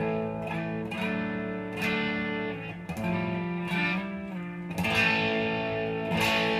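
Electric guitar played through an amp with a light, slightly crunchy distortion, strummed chords ringing out in a steady rhythm with no talking.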